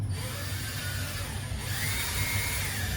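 A power drill whirs steadily at close range, its pitch rising partway through as it bites into a metal stop sign, with no talk over it.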